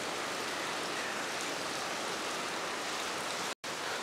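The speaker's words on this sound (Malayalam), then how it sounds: "പുറത്ത് നല്ല മഴയാണ് കേട്ടോ" Heavy rain falls outside, heard from beneath a UPVC-sheet car porch roof as a steady, dense hiss without pattering, continuous for several seconds apart from one abrupt short dropout.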